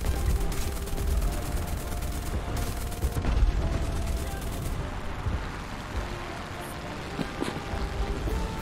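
Aircraft cannons firing during an air battle in a combat flight video game, with dense, continuous bursts of rapid gunfire and explosions filling the mix at steady loudness throughout.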